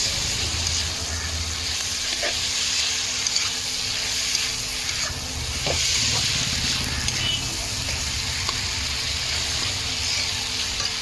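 Pre-boiled Maggi noodles go into a hot frying pan bit by bit, producing a continuous hissing sizzle with occasional clinks and soft watery bubbling, close by.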